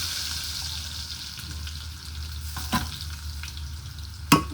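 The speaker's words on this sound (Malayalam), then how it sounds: "എണ്ണ മൂത്ത് വന്നിട്ടുണ്ട്, അതിലേക്ക് ജസ്റ്റ് ഇത് വെളുത്തുള്ളി ഇട്ട് കൊടുക്കാം" Garlic dropped into hot oil, a soft continuous sizzle and frying hiss with a couple of brief utensil clinks near the end.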